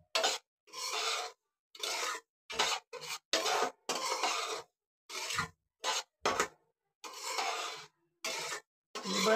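Semolina being dry-roasted in a pan for karanji, with a spoon scraping and stirring in repeated rasping strokes separated by short pauses, close and fairly quiet.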